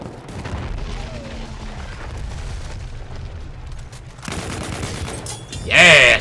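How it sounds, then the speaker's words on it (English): Battlefield 1 online Conquest match at Amiens: rumbling battlefield noise and scattered blasts build into a loud burst of explosions and gunfire near the end, without clear speech. "Freaking explosions everywhere"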